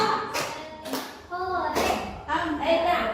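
Schoolchildren doing a rhythmic 'tepuk semangat' clapping chant in a classroom, short bursts of hand claps in patterned groups mixed with children's voices and an adult voice speaking between them.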